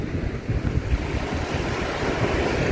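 Waves and wind on a sandy beach make a steady, full roar of surf mixed with blustery wind noise on the microphone, continuous and fairly loud throughout.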